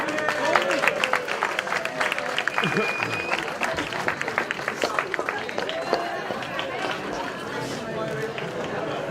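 A crowd at a homeless dinner event breaks into scattered clapping and cheering for a raffle winner, a busy mix of claps and voices over several seconds.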